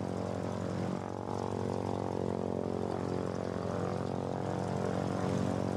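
A propeller aircraft in the video game Foxhole landing on a carrier, its engine droning steadily with a harmonic hum throughout, loud and continuous with a brief dip near the start.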